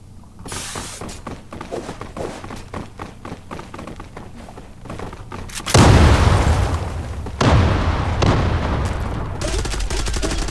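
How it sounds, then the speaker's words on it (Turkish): A planted bomb in the online shooter Zula goes off with a loud, booming blast partway through. A steady rattle of gunshots comes before it, and a second heavy burst follows soon after. "Bombayı kur ve patlat."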